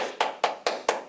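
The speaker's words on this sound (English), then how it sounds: "Give yourselves a big round of applause." Four crisp, evenly spaced hand claps, close and solo, during an online children's singing session, with no talking.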